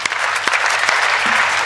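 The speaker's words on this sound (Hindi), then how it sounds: "इतनी कमजोर तालियां बीसलपुर की तो नहीं हो सकती" A live audience claps under a festival pandal during a Hindi poetry and song programme. The applause is dense and steady, fairly loud and close, with a brief voice rising near the end.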